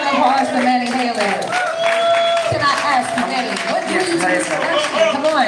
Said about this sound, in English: Let's come out and applause for Manny Healy.